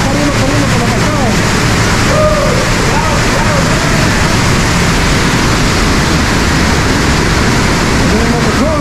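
Constant loud roar of rushing water from a waterfall in Guatemala, steady and broadband throughout, with voices faintly buried beneath it.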